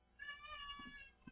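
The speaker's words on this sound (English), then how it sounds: "cats are having a moan" Cats meowing in a home workshop during welding panel work, one drawn-out tonal meow that is fairly faint and distant, with small thumps at the end.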